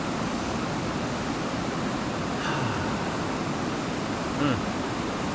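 A mountain river flows with a steady, unbroken rush of water that stays even and close throughout, with no pauses or distinct splashes.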